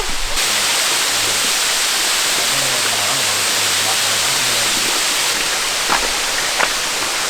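A large waterfall in Werrikimbe National Park roars with a constant, dense broadband rush, loud and close, with a brief voice murmuring underneath.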